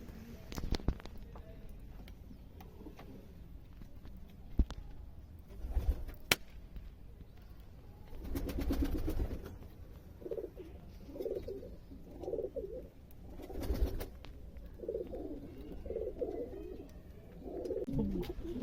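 A Pakistani fancier's prized pigeons coo in repeated low, throaty bursts, growing frequent in the latter half, with occasional sharp knocks and clicks and soft room noise between them.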